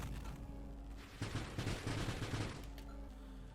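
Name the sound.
charge shot firing in video game Nova Drift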